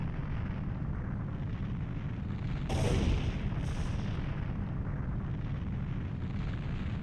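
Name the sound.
place being destroyed in Ocarina of Time video game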